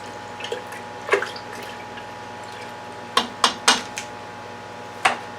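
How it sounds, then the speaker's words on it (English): Ten tea bags are pushed down and stirred in a homemade immune-boosting drink, giving a few sharp clinks and light knocks of a spoon against the container, spaced irregularly over a quiet background. "Now I'm just going to push that down and give it a stir."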